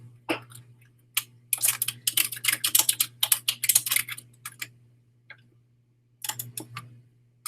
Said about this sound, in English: You might hear some typing in the background.